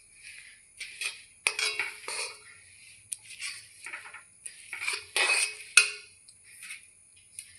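A utensil clinks and scrapes against a pan while sesame seeds and jaggery are stirred together, giving irregular sharp metallic taps and scrapes at close range with short quiet gaps.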